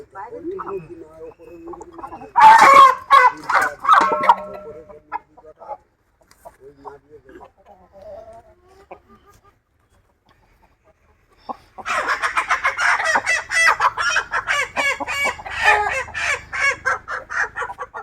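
Poultry chickens cluck nearby in two loud, busy bursts, one early and a longer one later, with a quiet stretch between. People talk at times.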